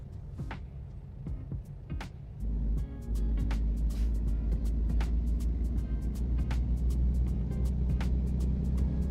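A Volvo truck engine accelerates in American Truck Simulator, its low steady drone thickening and growing louder partway through, with faint clicks scattered over it.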